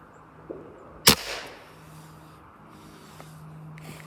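A Hatsan Vectis air rifle fitted with a Huma regulator fires once, and a sharp, close crack from the homemade exploding ping pong ball target follows, then fades into quiet outdoor background.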